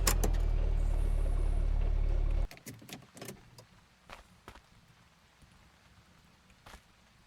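A junkyard truck with no working reverse drones with a loud, low, steady engine hum while going nowhere, then cuts off abruptly, leaving scattered faint clicks and taps.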